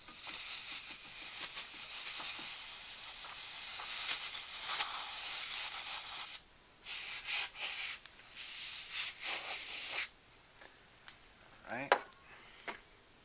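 Compressed air sprays over an iPhone 6S logic board in a long continuous hiss, followed by several short, sharp bursts and quieter gaps.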